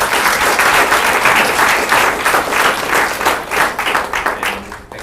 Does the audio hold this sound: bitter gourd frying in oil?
no